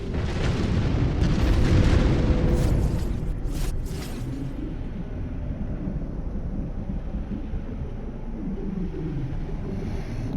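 Shooting and explosions in the space game No Man's Sky: a heavy, rumbling blast swells loudly over the first few seconds, then fades into a sustained low roar and crackle, with no voices.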